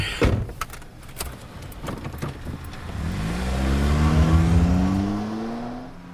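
A car gives a few sharp knocks, then its engine revs up with a rising, strengthening drone that grows louder toward the end.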